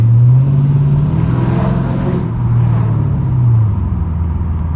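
Straight-piped Dodge Charger R/T V8 revving hard on a downtown street, a loud, close, deep exhaust roar that swells, holds and eases back down over several seconds with no talk.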